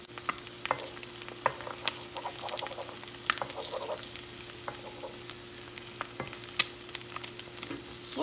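Eggs sizzle and crackle in a frying pan while being gently flipped, with scattered sharp pops and light scraping over a steady hiss, close by and without talk.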